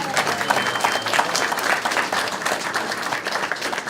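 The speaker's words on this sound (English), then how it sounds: "Go ahead and give a round of applause." Steady, dense applause from an audience at a school arts building grand opening, many hands clapping together at an even loudness throughout.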